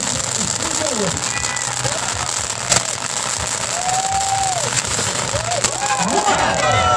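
Fireworks at a July block party crackle and pop continuously in the distance, with whistling rising shells and sharp bangs, while crowd voices and chatter carry on over them.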